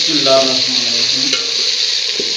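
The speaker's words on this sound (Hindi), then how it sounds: "यहाँ पे प्याज को इसमें डाल के अच्छी तरह से भून लेना है पहले।" Chopped onions fry in a pan over cumin seeds, giving a loud, steady hiss of sizzling oil that runs throughout, with a few faint stirring scrapes and low tonal hums underneath.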